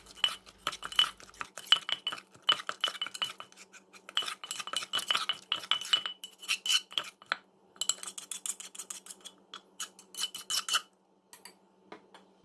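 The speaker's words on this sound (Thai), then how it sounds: "แล้วก็ตำให้ มัน เข้ากันอีกที่หนึ่งค่ะ" Pestle work in a mortar mixing grilled eggplant with shallots and herbs, a steady run of quick sharp clinks and taps, close and fairly loud, with a short break near the end.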